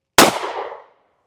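A Smith & Wesson Bodyguard 2.0 pistol fires a single 90-grain Underwood XTP round into fiberboard and gel: one sharp, loud crack with a short ringing decay, then silence.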